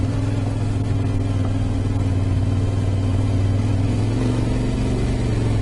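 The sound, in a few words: Yamaha T700 motorcycle engine riding two-up in first gear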